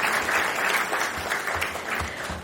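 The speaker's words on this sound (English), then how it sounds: "Let us all combinedly welcome him as well with a huge round of applause." Sustained applause from a conference audience welcoming a former Supreme Court judge at a law and AI congress, a steady dense wash of many hands clapping at moderate level.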